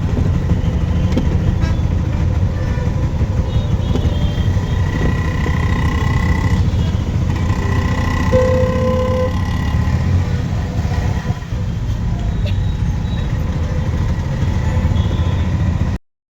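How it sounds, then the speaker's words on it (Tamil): Steady traffic noise at the Tiruvannamalai bus stand: a continuous low rumble of idling and passing buses and vehicles with engine drone throughout, loud and close, with no clear speech. "Tiruvannamalai bus stand."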